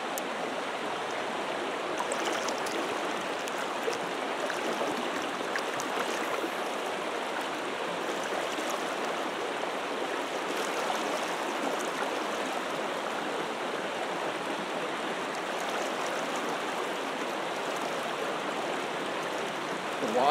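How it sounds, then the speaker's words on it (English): River water rushes steadily through branches on the Rush River in Wisconsin, a continuous broadband hiss and gurgle of moderate loudness that never lets up, with no voices over it. "The water sure is loud going through them branches over there. It's a nice, calming, rushing water sound."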